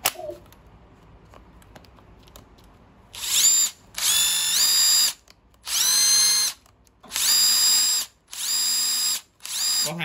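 Bosch GDX 18V cordless impact driver with a screwdriver bit, running close and loud in five steady bursts of a few seconds each, separated by short pauses, after a quiet stretch.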